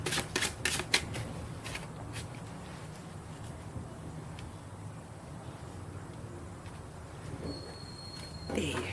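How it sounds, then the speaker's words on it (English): Tarot cards riffle and shuffle in quick bursts at the start, followed by quieter handling noises; close and fairly soft. "let me just shuffle that part a bit"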